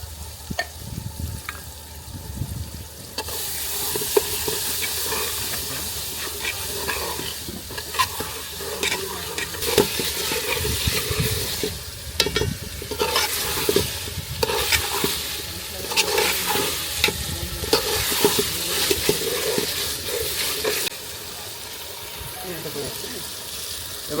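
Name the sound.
frying chicken with chui jhal, tomato and whole garlic being stirred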